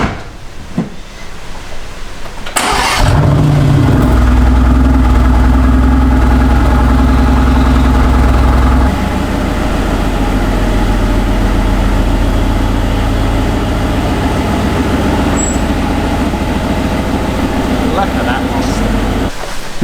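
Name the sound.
Mercedes AMG GT R Pro engine cold start idling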